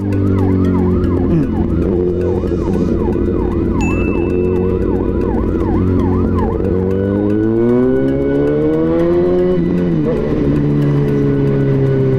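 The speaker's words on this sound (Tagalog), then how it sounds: "maingay yung ambulansya" A loud ambulance siren wails continuously on a road in the Philippines, its pitch sweeping up and down in rapid cycles and slower long swoops over a rumbling engine.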